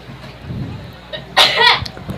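A single sharp sneeze bursts out near a quiet indoor setting during a high school football broadcast, preceded by faint murmuring and followed by a brief small sound.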